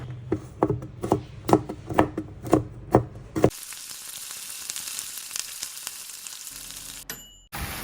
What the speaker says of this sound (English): Next, we chop the garlic.